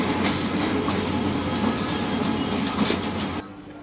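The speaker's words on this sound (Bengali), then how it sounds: "এখানে একটি লোকাল ট্রেন দেখা যাচ্ছে কমিউটার ট্রেন অবশ্যই" A local commuter train rolls through a suburban station in Dhaka, a steady loud rumble of wheels and carriages with faint rail clatter, dropping off sharply near the end.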